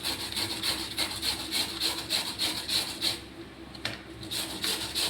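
Food is rubbed by hand against a grater while cooking, giving steady, rhythmic rasping strokes, about two per second, close and fairly loud, with a short lull before resuming.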